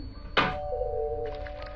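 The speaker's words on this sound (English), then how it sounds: "All of a sudden, Dariush's doorbell rings, catching him off guard." A doorbell in the video game The Hole: a sharp strike followed by a sustained electronic chime tone ringing on, faint background murmur, no speech.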